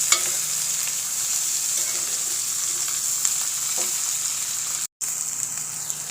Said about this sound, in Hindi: भिंडियों को भी हम प्याज़ों के साथ ही फ्राई कर लेंगे